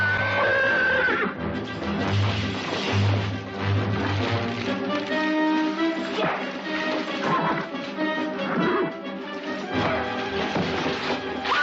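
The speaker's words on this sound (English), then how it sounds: "I said, saddle up them horses." Horses whinny and neigh loudly in a Western scene, with shrill calls rising over a dense, busy background of commotion and movement, and no speech.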